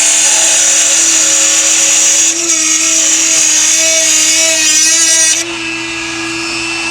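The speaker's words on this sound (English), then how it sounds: "right now the only way to get some of this stuff off is go ahead and cut it off" A Dremel rotary tool cuts off parts on an old 1970s Kawasaki H1 motorcycle, a loud continuous high-pitched whine that shifts pitch under load and drops slightly near the end.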